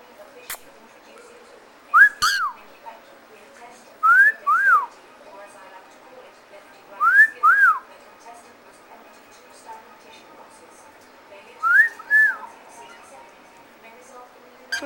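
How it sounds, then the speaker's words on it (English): A tame white-faced cockatiel whistles in four separate bursts, each a pair of rising-and-falling two-note whistles, spaced a few seconds apart against quiet room background. "White-faced cockatiel."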